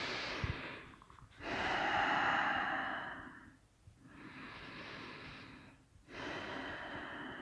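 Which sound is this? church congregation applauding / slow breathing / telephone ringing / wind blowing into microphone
slow breathing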